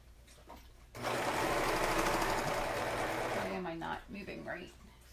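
A sewing machine stitches fabric for a maxi skirt, a loud steady whirring run of about two and a half seconds that stops abruptly, followed by someone speaking nearby.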